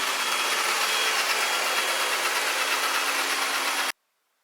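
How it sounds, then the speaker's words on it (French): A vacuum cleaner runs steadily, sucking up spilled powder with a loud, even whooshing roar that stops abruptly at the end. "ça va venir tout nettoyer avec l'aspiro"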